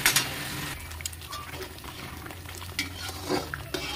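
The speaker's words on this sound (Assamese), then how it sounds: "এইফালে এইখিনি মই মচলা ভাজি আছোঁ" A ground tomato and onion masala paste fries in a pan for paneer butter masala, sizzling softly while a spoon stirs and scrapes it. Several short scraping bursts rise over a low, steady frying hiss.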